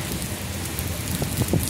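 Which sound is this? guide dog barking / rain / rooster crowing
rain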